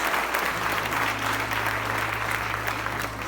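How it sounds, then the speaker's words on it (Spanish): A church congregation breaks into loud, sustained applause during a Spanish-language worship service, a dense wash of many hands clapping that stays steady for several seconds with no talking over it. "puedes dar un fuerte aplauso al Señor"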